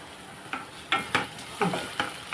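Onions frying in a pan while a sour methi pulusu is cooked, with a spoon stirring through them: a soft steady sizzle broken by several scraping strokes, close up and with no talk.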